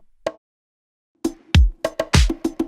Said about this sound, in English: we need a second conga sound, for which we could use this sample